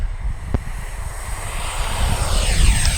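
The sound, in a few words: RC F-15 twin 64mm EDF jet taking off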